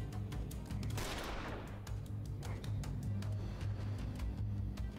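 Gunfire in the video game The Lamplighters League: one loud shot near the start, its noise trailing off, then a steady mechanical hum of game ambience with faint clicks.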